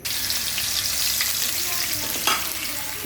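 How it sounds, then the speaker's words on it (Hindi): Ginger-garlic paste sizzling in hot oil in a frying pan, a continuous loud crackling fry with a brief stirring scrape near the end, no talking. "हमने लहसुन अदरक का पेस्ट इसमें डालना है"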